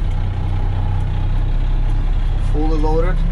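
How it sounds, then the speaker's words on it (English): Loaded dump trucks pull out of a quarry, a steady heavy low engine rumble running throughout, with a voice speaking briefly near the end. "Some trucks are leaving,"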